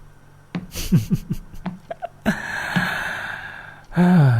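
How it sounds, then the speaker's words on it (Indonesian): Breathing of a frightened person in a tense hide-and-seek roleplay: close, shaky gasps and sighs in quick uneven bursts, then a longer hissing breath, heard alone without talk. "Nafas kamu juga kedengeran tahu."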